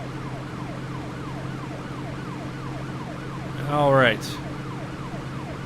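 Police siren in the video game City Patrol: Police, a repeating wailing siren cycling steadily in the background over an engine drone, with a brief louder sweep and a short spoken word partway through.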